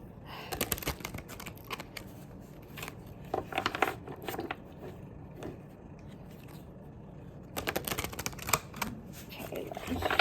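Tarot cards riffle and shuffle in quick bursts close to the microphone, crisp papery flutters separated by quiet handling and faint background sound.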